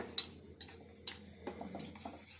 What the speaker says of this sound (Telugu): అన్నీ కలిసేటట్టు కొంచెం నురుగు వచ్చేదాకా కలుపుకోవాలి